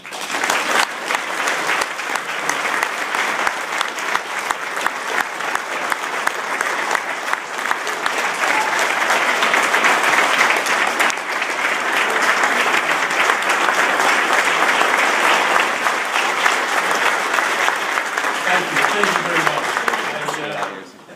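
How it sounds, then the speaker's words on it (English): A large audience at a hall of fame ceremony gives a long, loud, warm round of applause, dense clapping sustained for about twenty seconds with crowd voices mixed in before it fades. "I'd like to ask you to give a big, warm round of applause to my friend"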